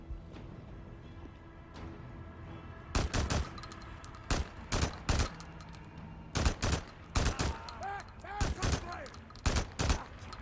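Enemy gunfire in the video game Days Gone: bursts of loud gunshots come in quick clusters of two to four, repeating over a low ambient background, with scattered single shots in between.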